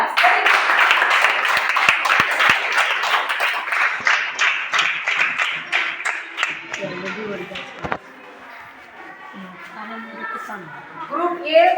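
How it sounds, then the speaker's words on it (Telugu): Students in a classroom at Z.P.H.S. Ramanujavaram clap together in quick, rhythmic unison during a states and capitals quiz game, loud and close for several seconds before fading into chatter and talking voices. "క్లాప్స్"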